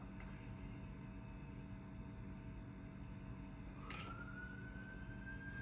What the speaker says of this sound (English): See, that's what I mean, the sirens.